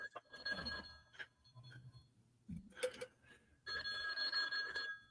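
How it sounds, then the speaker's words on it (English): A telephone rings in bursts indoors, its electronic trill starting, breaking off and resuming louder, with some handling noise in between and no talk. "Phone's ringing."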